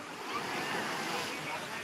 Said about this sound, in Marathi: समुद्र किती खवळ्याला आहे